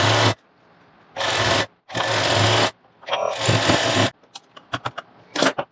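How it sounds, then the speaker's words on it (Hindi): A sewing machine stitches a blouse in several short, loud bursts, followed by light clicks and rattles of fabric and machine handling. "पहले हम इसके ऊपर एक सिलाई लगा देते हैं।"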